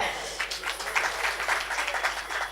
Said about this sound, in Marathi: आपण सगळ्यांनी जोरात टाळ्या वाजल्या पाहिजे एकदा